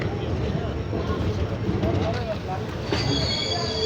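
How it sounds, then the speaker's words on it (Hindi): A passenger train pulls into New Barauni railway station in Bihar, India, with a steady low rumble of wheels and faint squealing, heard from on board under ongoing talk. "तो 78 किलोमीटर की दूरी को तय करने के बाद अपनी ट्रेन पहुंच चुकी है अपने 13वें ऑफिशियल स्टॉप बिहार का ही न्यू बरौनी रेलवे स्टेशन।"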